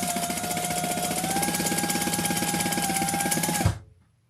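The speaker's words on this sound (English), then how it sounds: "let's sew that together" A sewing machine runs steadily while stitching the short edges of a fabric training treat bag, a rapid even mechanical chatter with a faint whine that stops abruptly near the end.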